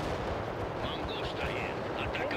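Artillery fire in the World in Conflict strategy game: repeated booming blasts and crackling impacts rumble continuously, heavy and dense, with a voice shouting over the barrage.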